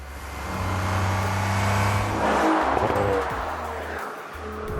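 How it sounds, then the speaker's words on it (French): Audi RS5 Coupé 2017 accelerating hard, its turbocharged engine roaring loudly and steadily with rising pitch, a brief gear change dip near the end, no talking. "quand on met une louche de la sorte, on entend vraiment bien les turbos"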